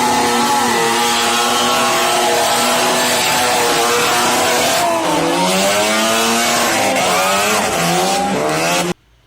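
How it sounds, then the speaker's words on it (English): A Mystery Machine mini Japanese burnout truck with a 500 hp turbo rotary engine revs hard and loud, with a sustained high-pitched engine scream and rising and falling revs continuing throughout, then cutting off abruptly at the end. "I believe it has a 500 horsepower turbo rotary engine installed."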